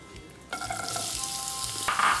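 Chopped onion hitting hot oil, a sudden burst of frying sizzle that swells and keeps crackling close up, with a faint tonal ring fading beneath and a brighter flare near the end.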